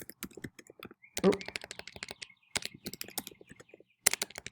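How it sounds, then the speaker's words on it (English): Keys clatter on a computer keyboard in quick irregular bursts with short pauses, close and fairly quiet, and a faint voice murmurs briefly. "Sorry, got to get my typing better."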